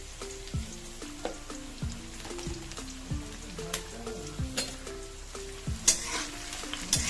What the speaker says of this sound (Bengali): এটাকে খুব ভালো করে ভাজবো